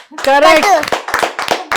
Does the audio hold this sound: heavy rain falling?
no